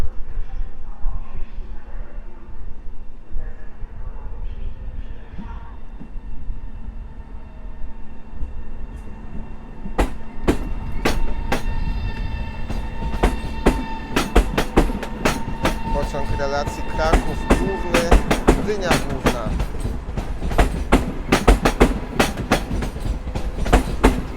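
A train pulls away past the platform at Warszawa Wschodnia station, starting as a low rumble and building into loud, rapid clickety-clack of wheels over rail joints, with a steady background hum.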